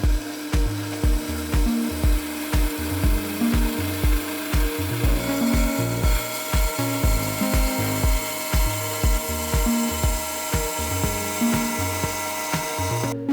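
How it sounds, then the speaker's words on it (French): A saw makes a 45-degree cut through metal lubricated with cutting oil, with steady, rhythmic back-and-forth strokes repeating close and loud for the whole stretch and no talk. "je vais effectuer une coupe à 45 degrés"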